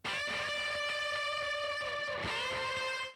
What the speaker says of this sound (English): And then the bends.